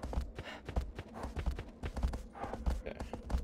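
Horse hooves clip-clop in a steady rhythm as the horse moves at a walk or trot in the video game Shadow of the Colossus, close and fairly loud, with other game sounds around them.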